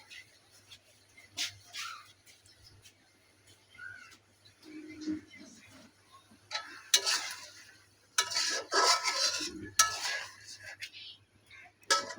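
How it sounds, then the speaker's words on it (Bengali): Prawn bhuna stir-fried in a pan, with metal spatula scrapes and clinks against the pan in short bursts, loudest near the end, over a faint low hum. "এগুলো ভালো করে কষাই নেবো, দেখতে পাচ্ছেন কষানোতে দিয়ে দিচ্ছি"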